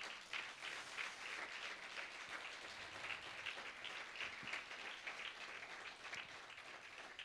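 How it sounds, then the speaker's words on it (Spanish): Steady, faint applause from a church congregation during a sermon, a continuous even wash of clapping with no talk over it. "dele un fuerte aplauso al Señor"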